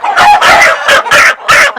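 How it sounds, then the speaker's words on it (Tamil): A naked neck rooster on a small Jaffna chicken farm crows loudly and close, several strong bursts in quick succession with short gaps between them, and no voices over it. "அண்ணன் கையில இருக்கிற வந்து கழுத்து வட்டி சாவல்."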